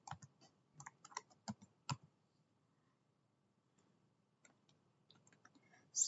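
Rapid keystrokes on a computer keyboard while entering code, clustered bursts of clicks in the first two seconds, a pause, then lighter scattered taps and a louder final clatter.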